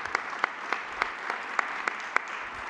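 Sparse, evenly spaced claps ring out in a council session debating a European base of social rights, about nine sharp hand claps at a steady quick rhythm over a quiet room.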